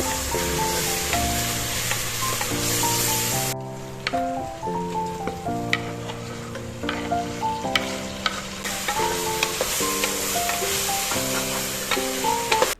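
Onions fry in a pan with a steady, crackling sizzle and occasional stirring, heard up close beneath background music.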